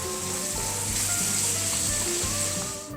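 Garlic sizzling with onions in a pan for a Gilan-style chicken dish, a dense, steady crackle of frying close up with no talking.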